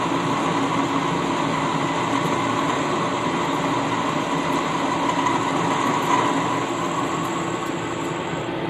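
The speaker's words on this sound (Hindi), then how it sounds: "जैसे आपको अभी आवाज़ आता होगा कटिंग का" Continuous grinding hum of a boring bar cutting through metal on a lathe, steady and fairly loud with a faint high-pitched whine, no voices present.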